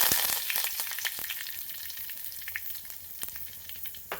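Curry leaves crackle and sizzle in hot coconut oil over a steady broadband frying hiss, with sharp pops scattered throughout; close and fairly loud, no voices.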